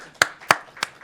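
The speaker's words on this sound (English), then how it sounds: "Let's give Al a round of applause" At a press briefing with Governor Cuomo about fans returning to Yankees and Mets games, a few sparse, sharp hand claps ring out, three distinct claps spaced evenly, fairly close in an otherwise quiet room.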